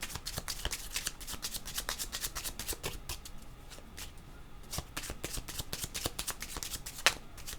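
A deck of tarot cards is shuffled by hand in a steady run of riffling, slapping flutters with short pauses between bursts, close and fairly quiet, with no voice.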